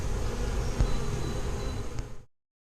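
Honeybees buzz in a steady, dense drone around a hive box during a cut-out removal, close and continuous until the sound stops abruptly.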